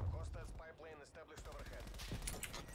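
A sniper rifle shot rings out in an online multiplayer shooter match, a sharp crack following a stretch of talking, with game noise continuing afterward.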